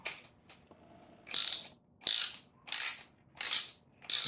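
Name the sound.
13 mm wrench turning a thread repair insert in engine block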